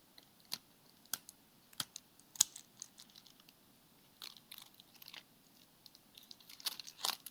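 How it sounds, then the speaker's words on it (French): A plastic-wrapped pack of Elder Scrolls: Betrayal of the Second Era game cards is torn open: sparse, faint, close crinkles and sharp crackles come in short bursts, with quiet gaps between them. "je vais en ouvrir un paquet"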